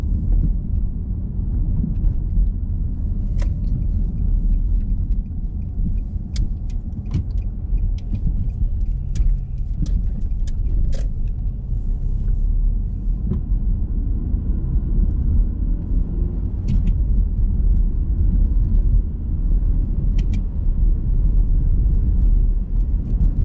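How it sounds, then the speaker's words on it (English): A 2009 Nissan Altima Coupe with a 6-speed manual pulls away, its engine a steady low rumble with road noise throughout, plus a few faint clicks and knocks from the cabin. "taking off in the Altima Coupe"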